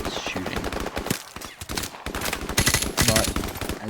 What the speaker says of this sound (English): we're gonna have to do a little bit of long distance shooting